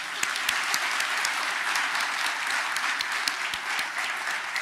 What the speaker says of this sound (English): Jury, audience, give yourselves a big round of applause now